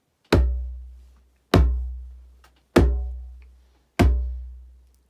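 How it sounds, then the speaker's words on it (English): Djembe struck four times by bouncing hands, each a deep open bass tone with a sharp attack and a long booming decay, evenly spaced about a second and a quarter apart, close and unaccompanied. "my hand is bouncing off the djembe like it's a trampoline."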